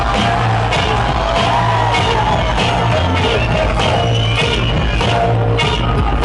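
A crowd at a live rap show yelling and whooping loudly in a dense, continuous roar, with shouts and bangs popping out over a booming beat.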